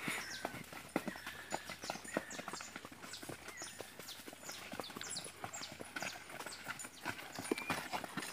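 Horse hooves clip-clop at a steady walking pace on a ride through rural Brazilian countryside, with sharp, close hoof strikes repeating throughout over a faint outdoor background and no talk.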